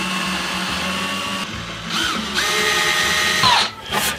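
A power drill whirs in short bursts, its motor pitch rising and falling as it runs and pauses, close and fairly loud.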